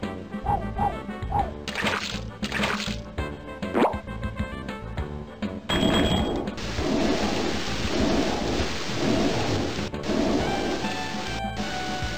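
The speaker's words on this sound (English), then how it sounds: "Recipe for hurricane. Four parts rain and five parts wind." Hurricane weather in the Pajama Sam 2 game: a few heavy thunder-like rumbles and plops, then a loud, continuous downpour of rain with wind filling the rest.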